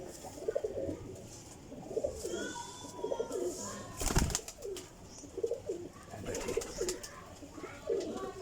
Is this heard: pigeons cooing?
yes